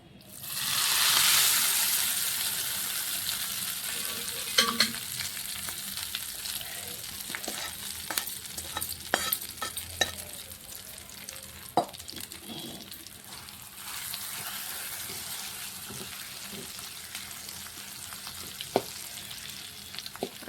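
Hot oil tempering hisses and sizzles loudly as it is poured into tomato pickle, then settles into a steady fizzing crackle with scattered sharp pops and stirring clicks throughout, no voices.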